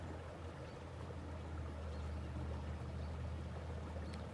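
A small waterfall by a creek rushes in a steady, unbroken wash of falling water, close and even throughout, with a low rumble beneath and no voices.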